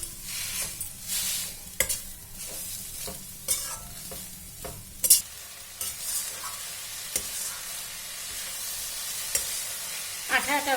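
Grated coconut and jaggery melting together in a pan over a low flame, stirred with a utensil that gives irregular scrapes and taps over a quiet sizzle, close and fairly soft.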